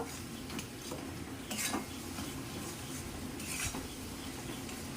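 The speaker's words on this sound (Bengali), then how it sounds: "আমগুলো এই গুড়ের সাথে ভালোভাবে সেদ্ধ করে নেব" Mango pieces cook in melted jaggery for a sweet-sour mango pickle, with a spoon scraping and clinking against the pot, soft sizzling underneath and two louder stirring scrapes, no talking.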